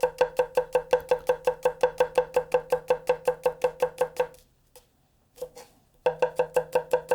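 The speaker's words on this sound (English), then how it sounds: "So if you're a big fan of the tap chop" Rapid, evenly spaced tap chopping with a Zuma Bunka knife on a cutting board, crisp clicking strikes at a quick steady rhythm, a brief pause with a couple of soft knocks, then the chopping resumes.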